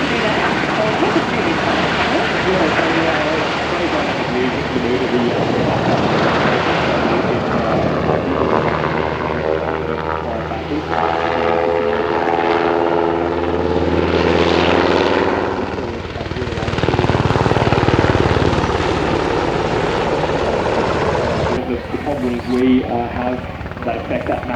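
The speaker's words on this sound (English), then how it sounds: "So there's Mara demonstrating the wheeling now" Military aircraft performing a flying display at the Avalon air show in Australia, a loud continuous engine roar that rises and swells as the aircraft passes, heard under a commentator's voice.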